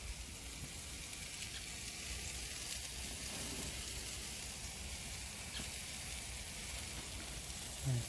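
Food sizzling on a grill as it is brushed with Bello sauce, a steady, fairly quiet hissing crackle running continuously throughout, with a faint brushing scrape near the end.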